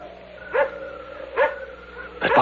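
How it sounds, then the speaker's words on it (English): A dog barks three times at a distance, the sharp barks spread out over a steady low background hum, with no talk. "That barking dog."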